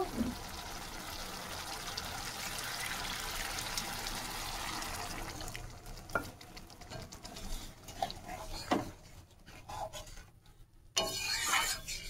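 Water is poured into a pan of fish curry made from a large pangas fish, giving a steady gurgling wash over low sizzling for several seconds before it settles into quieter stirring clicks.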